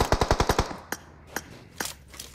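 An M249 machine gun fires in a video game tournament match: a rapid burst of about six loud, close shots, then a few spaced single shots with quieter noise between.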